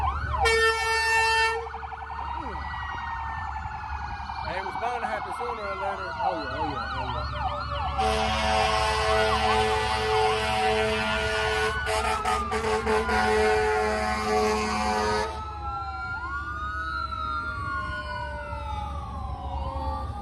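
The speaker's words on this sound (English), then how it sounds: "We're gonna let this siren go by." A wailing emergency siren sweeps up and down as it passes along a highway, loud and near, with traffic rumble beneath and a few men chatting casually over it.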